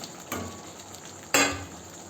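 Fried potato pieces drop into a pan of spiced masala in hot oil for potato curry, giving two brief sizzling bursts with a soft clink of a utensil against the pan, close and moderately loud with no talking.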